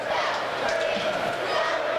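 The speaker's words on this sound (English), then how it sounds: "The whole crowd just goes absolutely insane towards the end of the game whenever it's close like this." A crowd at a close high school basketball game between Shaler and McKeesport roars and yells without a break, loud and dense, with cheering voices packing the gym throughout.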